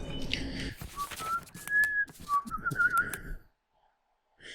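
A person whistles a theme, a short run of clear rising and held notes at close range over faint background sounds, ending in silence.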